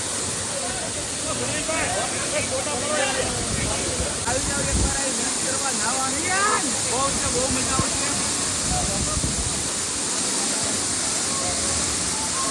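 A waterfall where a family went bathing rushes in a steady broadband roar, with people talking and calling out close by over the constant flow.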